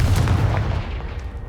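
A Confringo blasting spell goes off in Hogwarts Legacy, a single loud, booming explosion with a heavy low-end thump that rolls and decays over about a second and a half, with no voices.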